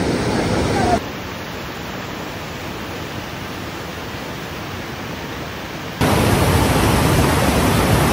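Bagsit River in Palauig, Zambales rushing in a steady broadband roar, loud and close, with a quieter stretch in the middle as the level drops and then returns.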